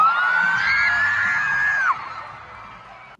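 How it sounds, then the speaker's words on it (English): A single loud, sustained scream with a rising then steady pitch rings out at a Tommyinnit live show in Cardiff, cutting off sharply after about two seconds, leaving fainter crowd noise behind. "that scream you just heard was me"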